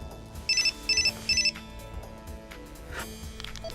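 A short electronic phone text-message alert chimes in three quick bursts, each a pair of bright beeps, clear above a low background hum in a French animated cartoon scene.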